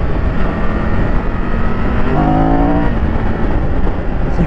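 Triumph Tiger 1200 motorcycle from 2022 running on its stock factory exhaust, a steady loud engine drone with a brief rising rev in the middle, heard alone without talk.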